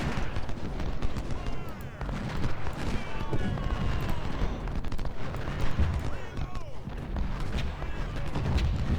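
Rolling musket volleys and artillery fire from Civil War infantry units in the strategy game Ultimate General: Civil War, a continuous, dense battle din with crackling shots and booms, with a voice talking over it.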